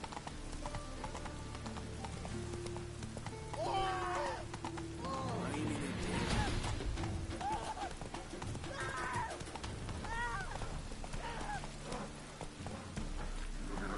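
Roach, the horse in The Witcher 3, gallops with rhythmic clip-clopping hooves amid falling rain, joined by a couple of neighing whinnies and game ambience throughout.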